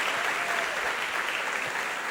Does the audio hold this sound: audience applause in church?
yes